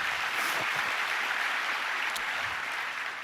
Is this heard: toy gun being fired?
no